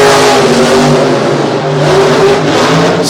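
Racing trucks roaring down a drag strip at Maryland's Mayhem event, loud sustained engine howl with revving pitch close by, no voices.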